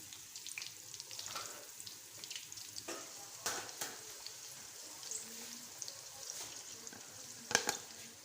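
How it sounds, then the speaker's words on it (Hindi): Chopped medium onions browning in a pan for aloo palak, a soft steady sizzle broken by a few sharp stirring clinks and scrapes, close and fairly quiet, with no voices. "अब इसमें मैं कटे हुए 2 अदद मीडियम साइज़ के प्याज डालूँगी और इसको हम पहले ब्राउन कर लेंगे"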